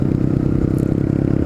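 A Honda CB125R motorcycle engine pulses in a rapid, steady low-pitched throb during a downshift, close and fairly loud with a faint mechanical clatter.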